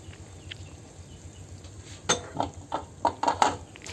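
A metal lid goes onto a cooking pot of chicken tinola with bottle gourd and chili: a few close, bright clinks and clanks of metal on metal, quiet at first and then a short cluster of knocks.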